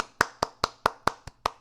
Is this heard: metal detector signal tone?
no